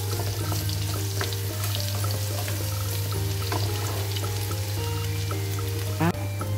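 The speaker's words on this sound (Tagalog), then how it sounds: "Lagyan po natin ng maraming bawang. Ayan, papulahin natin." Lots of garlic sizzles steadily in a hot pan while being sautéed to golden brown, a continuous close frying hiss with small clinks of utensils and no talk.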